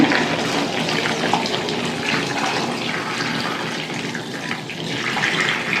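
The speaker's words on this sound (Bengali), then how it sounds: "আমি গরম জল দিয়ে দিলাম" Hot water poured into a pot for boiling potatoes and papaya, a continuous close rushing, splashing flow of water that keeps going steadily from start to finish, with no voices.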